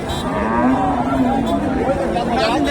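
Cows moo loudly and close by, a long low drawn-out call over a busy background of crowd chatter at an outdoor cattle market in Bogura, Bangladesh.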